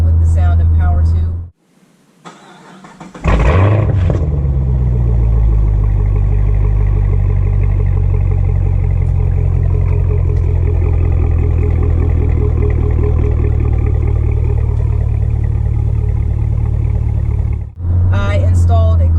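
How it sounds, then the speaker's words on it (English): A car fitted with a Borla Attack axle-back exhaust and an X pipe in place of the resonator rumbles close by after a brief lull, revving and then holding a loud, steady drone for a long stretch. "I also added a Borla Attack axle back exhaust. Gave my car a nice sound away from stock sound."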